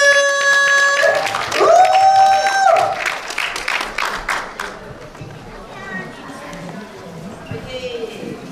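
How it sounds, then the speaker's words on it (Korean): A crowd applauding and cheering loudly at a youth dance club competition in a Suwon youth culture centre, the clapping dense at first and then fading under a voice and the start of music. "여러분들의 큰 박수로 응원 부탁드릴게요"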